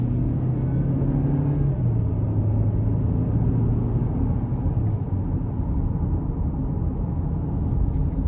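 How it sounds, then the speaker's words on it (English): A 2022 Chevrolet Equinox LT with the 1.5-liter turbo four pulls under throttle, its steady low engine drone and road rumble holding constant from inside the cabin with no sharp revs, just a broad even hum. "gonna give it some throttle here."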